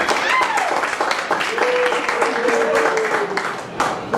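Audience applause at Schmitt Saloon during a live bar show, loud dense clapping from a nearby crowd with a whistle or cheer rising through it, continuous for the whole stretch.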